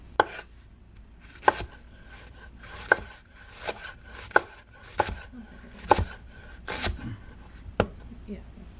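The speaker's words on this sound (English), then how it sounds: "you're going to cut them in, I don't know, a little less than a ½ inch slice" A knife chopping leeks into slices on a cutting board, sharp distinct cuts at an uneven, unhurried pace, with some soft rubbing and shifting between strokes, close up.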